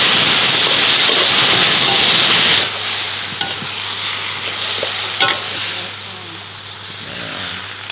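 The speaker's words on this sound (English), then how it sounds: "there's a huge platter of stir-fried vegetables" Vegetables stir-fried in a pan during a farm-to-table Thai mountain meal in Chiang Rai, Thailand, with a steady loud sizzle and scraping stirs that ease after a few seconds into quieter frying and occasional clanks.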